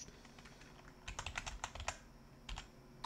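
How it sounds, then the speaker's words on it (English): A loud computer keyboard clatters in quick, uneven clusters of close keystrokes, pausing briefly before a few more taps, with no talking. "my keyboard is really loud"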